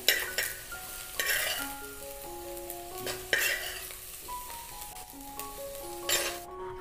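Okra being sautéed in a little coconut oil in a Kerala village kitchen, with steady frying sizzle and repeated scraping stirs of a utensil against the pan, close and continuous, with a soft background hum and no talk.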